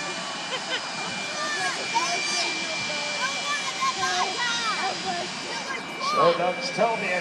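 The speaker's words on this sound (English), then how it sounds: "It is the green Mamba Jet Car. How about a little thunder?" Green Mamba jet car at Elko Speedway, its jet engine roaring steadily throughout with a loud, continuous rushing drone, while an announcer talks over it.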